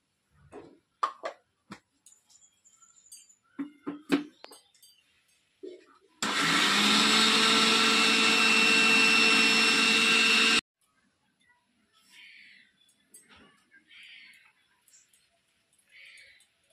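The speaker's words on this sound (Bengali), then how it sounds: "নারকেল কোড়াতে মিক্সিতে বাটিতে নিয়ে নিয়েছি।" A kitchen mixer grinder whirs loudly for about four seconds as it blends grated coconut with coconut water, starting and stopping abruptly, with quiet clinks and a speaking voice before and after.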